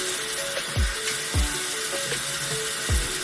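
Water sprayed or squeezed through a curly frontal wig to soak the hair, a steady wet hiss with a few soft low thumps.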